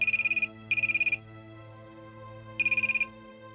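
A telephone rings in bursts of a bright warbling tone, two close together and a third after a pause, loud over a soft sustained music bed.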